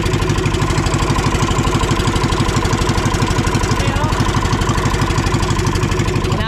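Small fishing boat's engine running with a fast, steady mechanical chugging, loud and close, unchanging for the whole stretch.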